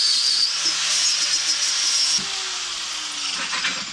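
A small die grinder cuts a golf cart roof panel with a steady high-pitched whine that holds for about two seconds, then drops in pitch and keeps running at a lower, slightly quieter level.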